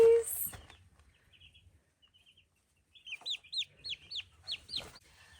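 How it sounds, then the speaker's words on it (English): Two-day-old turkey chicks peeping in a quick run of high, bright chirps, close and fairly faint, following a short quiet stretch with a brief sound at the start. "I just got the turkeys from the post office this morning"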